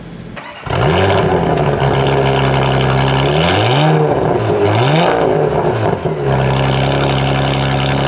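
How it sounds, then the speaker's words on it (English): A 2022 Porsche Macan GTS with a PDK gearbox pulls away, its engine revving loudly up close in rising sweeps broken by quick gear changes, then settling into a steady drone. "Shift PDK into drive, and we're off."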